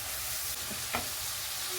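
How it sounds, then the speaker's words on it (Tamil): Snow peas (avarakkai) sizzle steadily in a hot pan while a utensil stirs them with a few soft scrapes. "நல்லா கிளறி விட்டுக்கலாம்"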